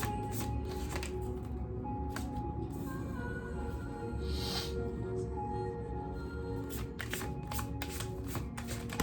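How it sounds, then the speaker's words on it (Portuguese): Tarot cards shuffled quickly by hand, a dense run of crisp riffling and slapping bursts with sharp card snaps, close and continuous, and no talking over it. "Eu também tô embaralhando meio rápido"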